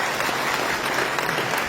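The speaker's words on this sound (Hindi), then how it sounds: "तो मैं चाहूंगा कि आप इन सभी इदारों के लिए जोरदार तालियां बजाएं।" Loud, dense applause from a large audience at a cultural opera event in Kashmir, a continuous wash of many hands clapping at once, sustained and even for the whole stretch.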